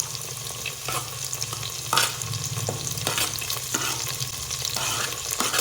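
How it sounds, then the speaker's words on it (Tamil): Onion, garlic, green chilli and curry leaves sizzle and fry in hot oil for a Madurai-style ayirai fish curry, a steady crackling hiss with occasional stirring scrapes, close and continuous with no talk. "நல்லா பொரியுது"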